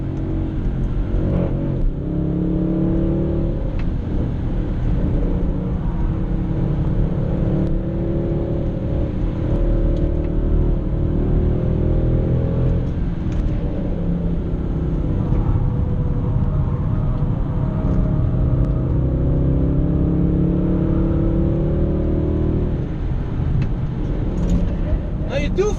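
Mercedes C63 AMG Coupe engine held at steady high revs during an oversteer slide, a continuous loud drone with shifting pitch, while someone talks over it throughout.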